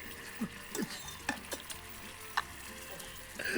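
Quiet sizzling in a hot pan as vegetable broth is poured in, with scattered stirring clinks and scrapes, low and close, no voices.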